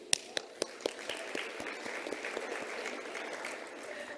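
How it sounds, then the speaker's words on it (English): Audience applause at a women in science awards ceremony in South Africa, a few sharp early claps spreading into steady, moderately loud clapping from a seated crowd in a hall. "A round of applause."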